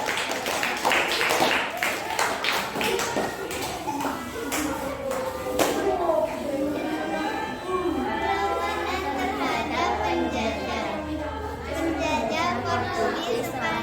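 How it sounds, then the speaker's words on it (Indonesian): A classroom audience claps for a student group about to present during an augmented-reality lesson on national heroes, with steady clapping mixed with children's chatter and voices throughout. "Kita beri tepuk tangan untuk kelompok"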